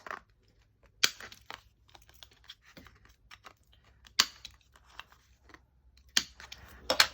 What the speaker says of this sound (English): I think we might just round the corners on this